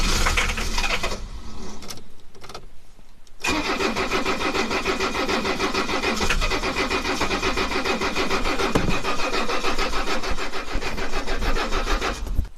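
An old Mercedes diesel engine that sat in a garage for 20 years cranks briefly, pauses, then catches and fires, settling into a loud, steady clattering idle close by.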